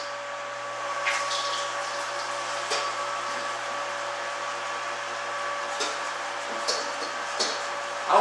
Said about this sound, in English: I'm just going to run the water right into the colander and let it drip down on top of the grain bed